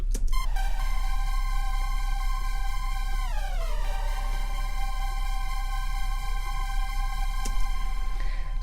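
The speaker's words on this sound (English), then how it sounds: "Serum makes an excellent drone." A Serum synthesizer drone holds a steady buzzing, harmonic-rich tone that sweeps downward in pitch partway through, then settles and continues over a constant low hum, with no voices.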